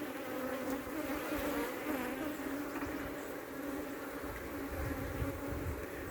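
Swarm of honeybees buzzing steadily close around a gloved beekeeper at the hive during brood frame work, a dense continuous hum with no pauses and no talking.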